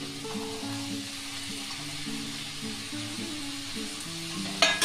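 Capsicum, tomato, peas and coriander sauté in a pan, giving a steady close sizzle with soft stirring scrapes throughout, a short louder clatter near the end, and background music tones running underneath.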